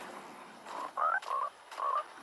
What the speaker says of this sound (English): Oh, that's a frog.